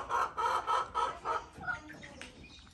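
Chickens in a small home-built backyard coop of wood, net and tin, clucking in a quick run of about six rhythmic bursts, then trailing off into softer scattered calls, fairly close and alone.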